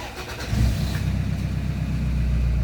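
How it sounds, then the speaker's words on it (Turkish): A 2007 Toyota Land Cruiser engine cranks briefly and catches, then settles into a steady, deep idle rumble close by, with no talking over it. "Lambalar söndükten sonra da nasipse marş yapıp çalışacak"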